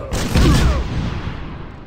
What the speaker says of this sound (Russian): Что-то взрывается здесь?